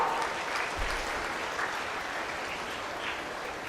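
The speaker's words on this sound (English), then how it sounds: "Please welcome ma'am with a huge round of applause." An audience claps for several seconds to welcome a speaker at an Orientation Day gathering under a pandal, a dense, even round of applause from a sizeable crowd that holds steady throughout.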